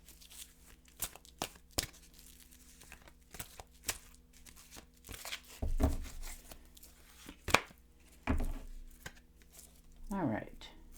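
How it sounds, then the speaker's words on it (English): Angel Oracle cards are shuffled by hand, giving irregular dry flicks, riffles and soft slaps that come in short bursts near the listener, with quiet pauses between them and a steady low hum underneath. "I'm going to shuffle and deal you an Angel Oracle card."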